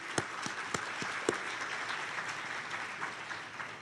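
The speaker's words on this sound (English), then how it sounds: "That is a good round of applause." Audience applause at a 2016 conference opening ceremony, a steady wash of many hands clapping with a few sharp, close claps standing out near the start.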